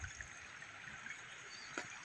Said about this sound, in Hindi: नदी बह रही है एक छोटी सी, उसकी भी आवाज़ आपको आ रही होगी